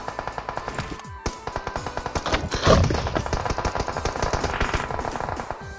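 Gunfire in PUBG Mobile around a brick house: rapid automatic bursts of sharp, close shots in a fast regular rhythm, with a heavier thump partway through, loud and continuous for several seconds.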